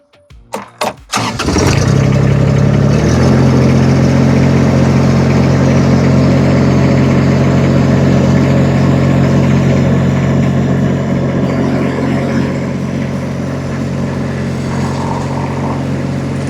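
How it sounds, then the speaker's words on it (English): A Rippa mini skid steer's small engine cranks a few times, catches and roars to life, then settles into a loud, steady running drone. "So I'll start the engine."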